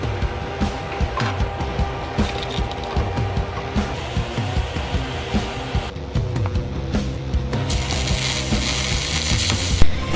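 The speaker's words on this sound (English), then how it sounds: "We'll take and weld them around there and then they should be good to go." Metal parts on a Toyota FJ45 rock crawler are welded together, giving a steady close-up crackle and sizzle with small irregular pops, moderately quiet throughout.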